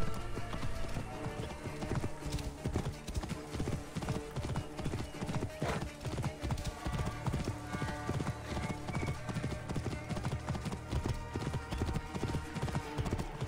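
Rapid, steady hoofbeats of a galloping horse in the video game Assassin's Creed Origins thunder along continuously, with an occasional whinny, over a dense synthetic background.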